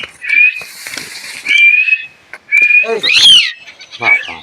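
A pet talking myna calls loudly at close range, giving several shrill whistling notes and a harsh rasping squawk in short bursts separated by brief pauses.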